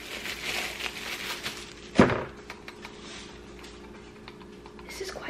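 Soft, sparse key clicks from a new computer keyboard, with one sharper thump near the middle, all fairly quiet under a person's voice.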